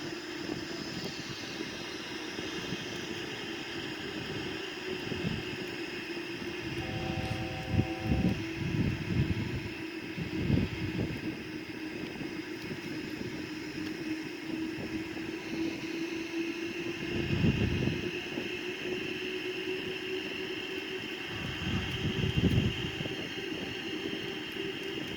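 Boeing 787-9 airliner on final ILS approach to runway 14, a steady broad engine and airflow roar with low rumbling swells and a faint sustained tone, heard continuously without speech.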